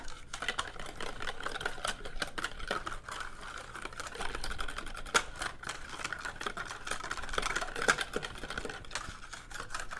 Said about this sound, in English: I'm putting it in the egg mixture. And then just use a whisk.